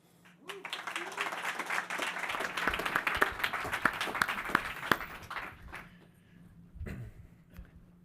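Audience applause at an AI-for-energy startup demo day, a broad wash of clapping that swells for about five seconds, then fades, with a brief voice near the end.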